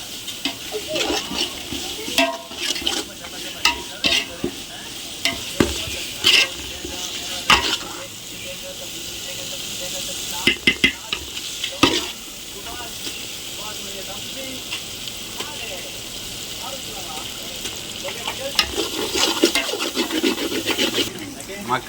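Chicken biryani masala with coriander and mint fries and sizzles in a pan, stirred with repeated scraping strokes, up close and fairly loud, with a voice talking over parts of it.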